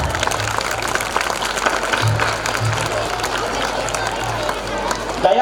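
Audience applause at a school inaugural function and prize distribution, a continuous dense clapping from a large crowd, fairly loud and steady throughout with a voice rising briefly at the end.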